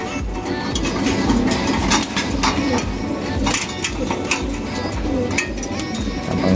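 Racing pigeons in a loft coo softly amid constant rustling, wing flutters and small clinks, a busy close bird-room ambience with no talking.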